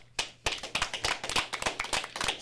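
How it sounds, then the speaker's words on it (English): A few people clap close by for a mayoral candidate on a morning show, the claps sharp, distinct and fairly quick in a loose rhythm at modest loudness. "Let's give a big round of applause."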